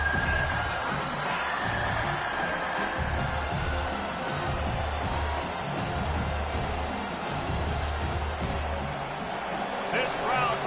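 Stadium crowd at a Clemson at South Carolina college football game, a steady loud roar of fans filling the whole stretch with occasional swells of cheering, heard under a play-by-play announcer's commentary.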